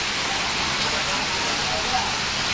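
Steady rain pours down in Jhuddo, Mirpurkhas, a dense, loud, even hiss of drops on surfaces that fills the whole stretch without a break.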